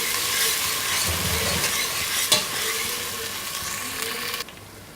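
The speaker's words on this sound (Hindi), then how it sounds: "अब मैं इसमें ये अदरक लहसुन ये जो दिखाई थी ये पिसी हुई ये डालूँगी। अब इसको थोड़ा सा सौते करेंगे।" Ground ginger and garlic sauté in hot oil with golden fried onions for a dal qeema, giving a steady close sizzle with light stirring clinks that drops off sharply near the end.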